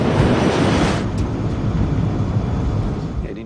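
A DC-8 jet airliner accelerates down the runway for takeoff, a loud, steady broadband engine roar filling the cabin throughout.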